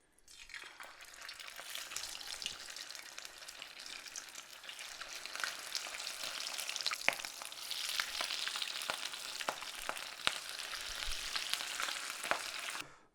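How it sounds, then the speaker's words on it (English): Continuous crackling sizzle of rolled pork birria tacos frying in hot oil on a Kamado Joe ceramic grill, with scattered sharp pops throughout, no voices. "So let's see how these fry up."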